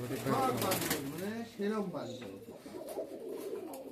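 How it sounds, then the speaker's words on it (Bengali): Pigeons coo in a pigeon-keeper's loft holding many colour-matched birds, their low rolling calls repeating steadily through the clip beneath continuous nearby talking. "প্রচুর কবুতর আছে, আপনারা এখান থেকে কালার ম্যাচিং কবুতর নিতে পারবেন।"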